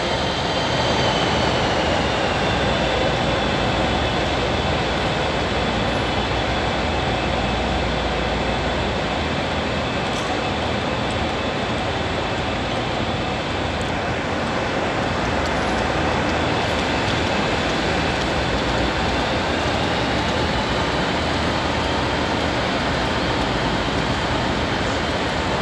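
DRS class 57 diesel locomotive 57307 pulls out of Liverpool Lime Street station with a steady, loud engine roar that holds throughout, with no talking.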